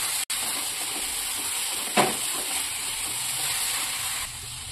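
Ginger garlic paste frying in a pan gives a continuous soft sizzle, with one sharp burst of hissing partway through as it is stirred, close and steady without talk.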